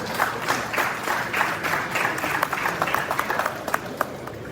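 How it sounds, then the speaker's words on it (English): Audience applause at an economic discourse event, a sustained wash of many hands that thins toward the end into scattered, more distinct individual claps. "I think that deserves a round of applause."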